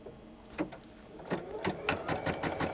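An embroidery machine stitches fabric for crazy quilting, giving a run of quick mechanical thumps that start sparse and then speed up into a steady rhythm at close range.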